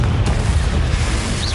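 The Confringo explosive spell from the video game Hogwarts Legacy goes off as a loud, deep booming burst with rumbling low end that fades over a second and a half.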